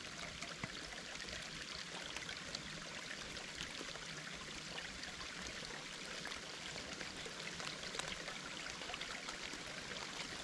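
Steady rushing of running stream water, continuous and fairly close, with a constant bright splashing texture and no voices.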